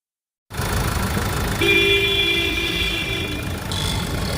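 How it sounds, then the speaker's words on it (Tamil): A Mahindra Xylo 8-seater's engine idles steadily up close, a low rumble with a thin tonal whine joining partway through. "இன்ஜின் நாய்ஸ் பார்த்தீங்களா"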